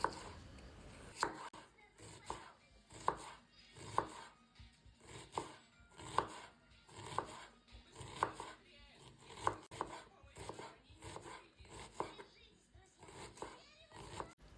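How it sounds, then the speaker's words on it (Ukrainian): A knife taps rapidly on a cutting board, finely chopping two medium onions in quick, steady chops, fairly quiet, with faint kitchen sounds in the background. "Тепер я беру дві середніх цибулини і також нарізаю дрібненько."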